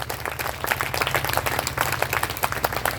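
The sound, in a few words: audience applause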